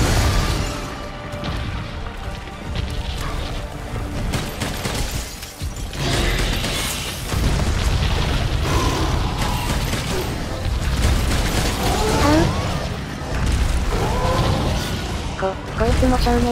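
Booming explosions from a Raging Brachydios fight in Monster Hunter World: Iceborne punch through a dense mix of music and effects, with repeated heavy blasts over about sixteen seconds.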